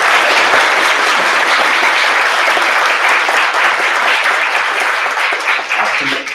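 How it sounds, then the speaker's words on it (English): Loud, sustained applause from a conference audience fills the whole stretch, dense and even, tapering slightly at the very end. "if you wouldn't mind giving them a round of applause"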